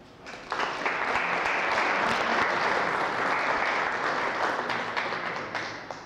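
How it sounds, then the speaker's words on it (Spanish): A university lecture audience breaks into applause for a talk on cosmic rays at a science faculty. The clapping starts quickly, swells to a full, steady wash of many hands nearby, then gradually tapers off. "Un fuerte aplauso."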